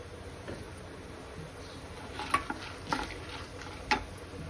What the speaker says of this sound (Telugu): ఇవన్నీ పప్పు వేగుతుంది, శనగపప్పు,